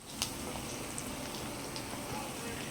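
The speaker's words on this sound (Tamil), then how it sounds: "ஒரு பேனில் வச்சுட்டு கொஞ்சமாக எண்ணெய் ஊற்றிட்டு கடுகு, பச்சை மிளகா, வெங்காயம் போட்டுக்கோங்க. அதை நல்லா ஃப்ரை பண்ணிக்கலாம்." Mustard seeds, green chili and onion sizzle in a little oil in a pan, a steady close crackling hiss with scattered sharp pops, fairly even throughout.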